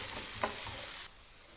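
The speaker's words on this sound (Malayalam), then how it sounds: "ഇനി ഇതിലേക്ക് ഒരു 1/2 ടീസ്പൂൺ മഞ്ഞൾപ്പൊടി ചേർത്ത് കൊടുക്കുക. നന്നായി മിക്സ് ചെയ്ത് കൊടുക്കാം." A frying curry mixture sizzles loudly as turmeric powder is stirred in, with one brief scrape of the spoon before the hiss abruptly drops to a quieter simmer.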